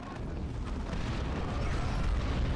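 Artillery explosions in a Dawn of War 2 battle, a continuous rumbling roar of blasts and low booms, moderately distant and without speech.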